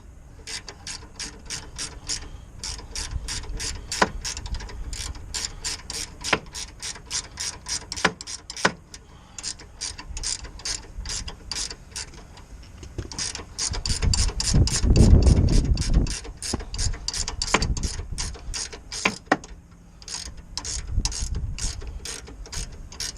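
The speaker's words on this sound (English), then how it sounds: "Now tighten this one down all the way" A ratchet tightens a track rod on a Mk6 Ford Fiesta, giving long runs of rapid, crisp clicks close up, broken by short pauses between strokes, with no talking.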